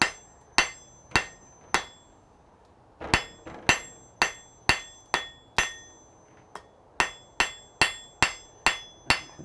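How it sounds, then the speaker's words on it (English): Hammer blows on hot metal worked over the edge of an anvil used as a fuller, drawing out quarter-inch stock: sharp, ringing strikes in steady groups of three to five, each decaying quickly, close and clear with no talk. "Now what I'm doing is actually using the edge of the anvil as a fuller."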